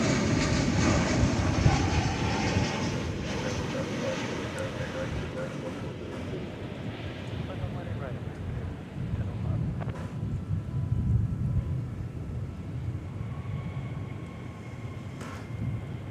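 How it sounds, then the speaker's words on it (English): An American Airlines Boeing 737-800 lands at DFW Airport. Its jet roar rumbles steadily for a long stretch under wind buffeting on the microphone. "that was American Flight 1961 coming in from San Antonio, Texas, 737-800"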